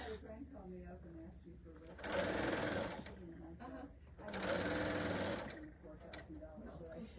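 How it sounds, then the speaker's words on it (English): A serger sewing machine runs in two loud, steady bursts of a few seconds each, a fast mechanical whir, with quieter talk in between. "So this is a serger."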